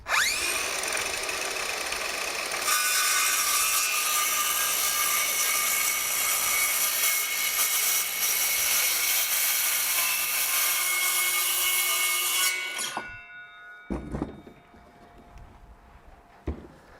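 Cordless power saw cuts through a wooden piece for an anvil and swage block stand, loud and steady for about ten seconds before stopping abruptly, followed by a few light knocks and handling sounds.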